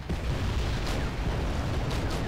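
A tank destroyed in the Wargame: European Escalation video game, heard as dense rumbling explosion and artillery booms with a couple of sharper blasts over a continuous loud battle din.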